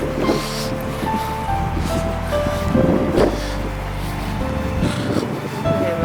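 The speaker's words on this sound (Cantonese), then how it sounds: "咦，好大風！" Strong gusty wind blowing outdoors and buffeting the microphone, a loud continuous roar with surging rumbling gusts and a few faint tonal sounds in the background.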